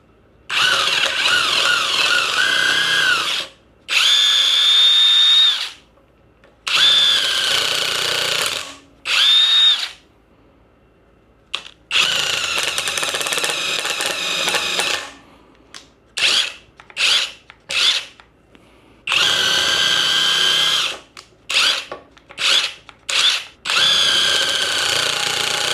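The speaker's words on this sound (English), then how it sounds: "This is a wood drill bit, and I got a 4x4 piece of lumber here." Close, loud bursts of a Seesii 3-in-1 power drill on high mode boring into a 4x4 piece of lumber with a wood bit, repeated several times in runs of a few seconds with short pauses between them.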